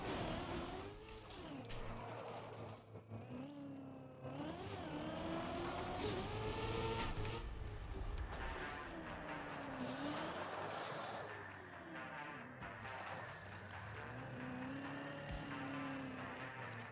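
A car engine in the racing game Trackmania (Deep Dip 2 map) revs up and down continuously, with rising and falling pitch sweeps as it accelerates and brakes, steady and fairly quiet, no talking.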